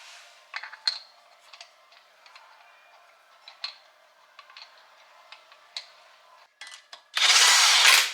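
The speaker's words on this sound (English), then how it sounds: "be careful when you're using an impact." An impact wrench tightening lug nuts on a fifth wheel RV after a sheared wheel stud: sparse light ticks and taps, then one loud, close, rattling burst at the end.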